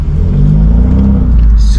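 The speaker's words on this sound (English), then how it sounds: "the burbles on this thing sound super clean" BMW 430i Gran Coupe with the B48 four-cylinder turbo engine revving, its exhaust giving off deep, steady burbles and rumble, loud and close throughout with no talking.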